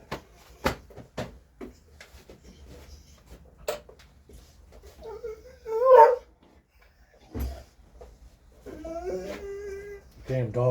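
A dog whimpers and whines in short, high, wavering cries between scattered knocks and clicks indoors, with a voice speaking at times.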